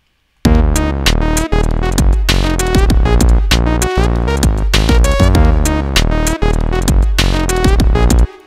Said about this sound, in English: So in this case, I had this lead line and it sounds like this.